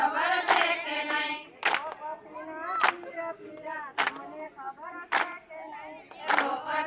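A group claps with both hands in a steady beat, a sharp clap about once a second, under singing of a devotional song.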